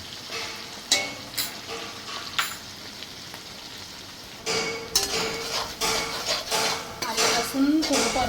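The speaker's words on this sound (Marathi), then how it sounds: "आलं लसूण परतून झाले" Ginger and garlic sautéing in a pan with a low sizzle, broken by repeated clanks and scrapes of a metal spoon against the pan that grow busier in the second half.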